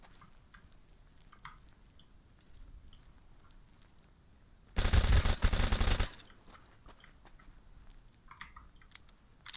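A single sustained burst of automatic gunfire in the video game Deadside rattles out for just over a second, loud and dense, between quiet stretches of soft keyboard tapping and small clicks.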